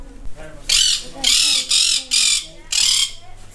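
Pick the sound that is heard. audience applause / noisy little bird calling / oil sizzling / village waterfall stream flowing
noisy little bird calling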